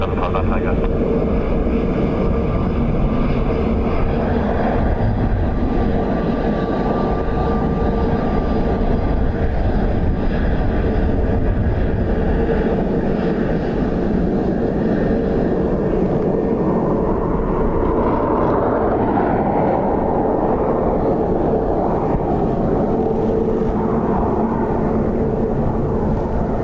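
A fixed-wing airliner lands on runway 28 left at Dublin Airport on a windy day, its jet engine roar steady and loud throughout, with air traffic radio talk over it.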